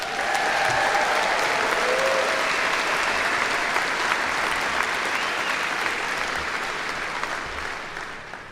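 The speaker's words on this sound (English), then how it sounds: "Let's give them a round of applause" Sustained applause from a large crowd at a university commencement ceremony, a dense wash of clapping that holds steady for several seconds and slowly thins toward the end.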